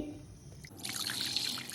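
Water splashes and trickles into a vessel for about a second, a close, moderate pouring after a quiet start.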